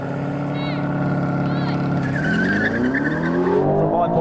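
An Aston Martin launches hard from a standstill in a drag race: the engine note climbs steadily in pitch, with a rising whine and brief tire chirps, loud and continuous throughout.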